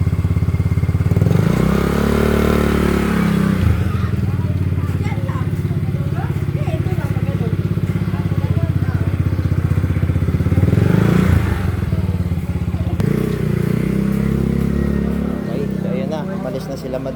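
A 150 motor scooter's small engine idles and revs after a repair to a carburetor that had sat unused for three months, a steady close puttering with a few rising revs while people talk nearby.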